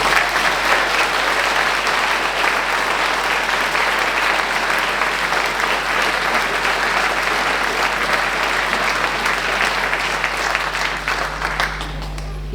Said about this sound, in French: Merci de les applaudir pour tout le travail qu'ils réalisent au quotidien.